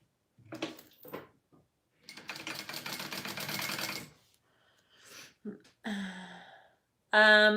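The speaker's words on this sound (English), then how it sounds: "I think we sew, yep, at a 1/2 inch seam allowance again" A sewing machine stitches a half-inch seam on a slip pocket for a wristlet in short bursts, one longer run of rapid clatter between brief taps, with some handling noises afterward.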